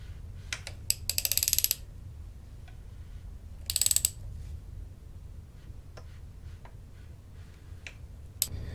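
Hand ratchet turning a GM Ecotec L61 engine over with the spark plugs removed; bursts of rapid clicking come in short runs, some louder and closer, separated by quieter pauses and faint mechanical ticks.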